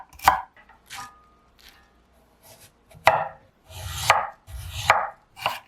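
Celery is chopped into small pieces on a cutting board, sharp close knife strikes in short irregular bursts with gaps between them, with no voices.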